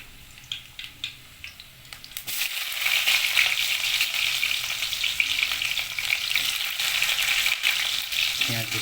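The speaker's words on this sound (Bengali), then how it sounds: "পেঁয়াজ কুচি দিয়ে দিলাম, কিছুক্ষণ ফ্রাই করব" Chopped onions hit hot oil in a pan and break into a loud, steady sizzle that holds for several seconds, with occasional stirring scrapes and faint background noise before the sizzle starts.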